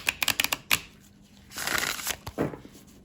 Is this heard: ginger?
no